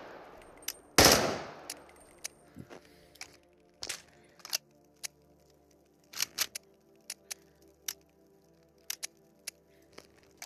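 PP90 submachine gun in the game Into the Radius, one loud burst near the start, then scattered sharp clicks and clacks of the weapon being handled, mostly quiet between them, with no speech.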